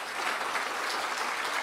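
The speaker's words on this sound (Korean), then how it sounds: "우리 방봉훈 목사님, 우리 황은주 사모님 박수 쳐주세요" Brief burst of audience clapping, dense and even, heard from a moderate distance.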